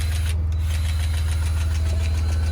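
A loud, deep straight-piped off-road truck engine rumbles at steady idle, with heavy low-end throb and a raw, unmuffled exhaust roar. The sound stays close and constant throughout.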